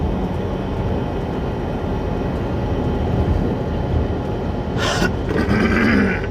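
A double-stack freight train with a two-engine lead sits idling westbound, a steady low rumble holding throughout with a brief higher hiss near the end.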